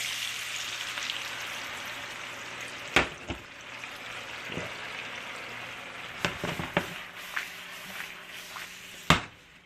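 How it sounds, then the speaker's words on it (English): Shrimp sizzle steadily in a hot pan for linguine after a splash of liquid goes in, a broad frying hiss with a few sharp utensil clicks and scrapes, close and without talk. "I'm going to add a little bit of aqua juice to the shrimp"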